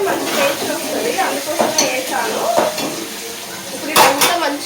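Dried red chilies frying in a pan, a soft sizzle with scraping stirs and metallic clinks of the pan and spoon, and a few louder clatters near the end.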